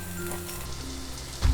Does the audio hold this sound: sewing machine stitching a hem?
no